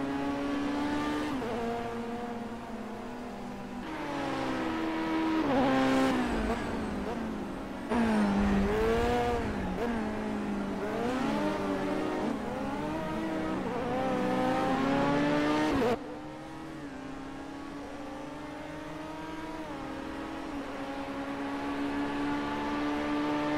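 A BAC Mono race car in the Project Cars game circles Snetterton, its engine droning and rising and falling through gear shifts with sharp revving peaks, while someone talks over it.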